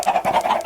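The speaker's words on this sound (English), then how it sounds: "Some loud chickens." Chickens clucking in the Minecraft video game, a quick run of short, rhythmic clucks repeating close and fairly loud, with no talk.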